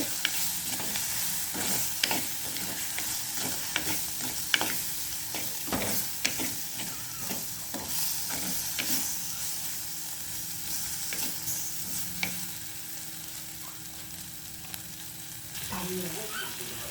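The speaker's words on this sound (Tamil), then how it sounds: "தக்காளி பழத்தையும் நல்லபடியாக வதக்குவோம்." Tomatoes sauté in a pan with a soft continuous sizzle, punctuated by repeated scraping clicks of a spoon stirring against the pan at a loose, uneven rhythm.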